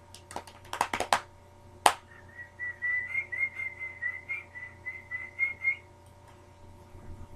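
A person whistles a wavering, sustained tone for a few seconds to call a dog, preceded by several sharp claps or snaps, close and fairly loud over a low room hum.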